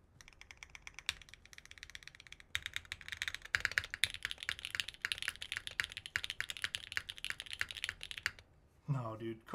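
Mechanical keyboard spacebar and backspace keys pressed in quick bursts of sharp clacky strokes, close and crisp, with a short spoken moment at the end.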